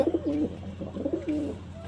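Two soft, throaty pigeon coos close by, one after another, over faint background hum.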